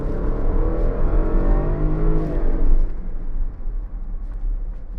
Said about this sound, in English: We're going to gun it a little bit here and just give you an idea.